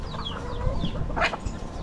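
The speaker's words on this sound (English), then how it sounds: "Looks like there's two chicks, maybe three." Chickens with chicks cluck outdoors in the Florida Keys, one short cluck standing out midway over a steady, breezy background hiss.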